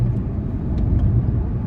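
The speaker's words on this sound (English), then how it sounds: "nice part of this exhaust also is that it's not too ridiculously loud" A 500HP Terminator SVT Cobra's exhaust rumbles low and steady while the car drives, a close, continuous engine drone with no speech over it.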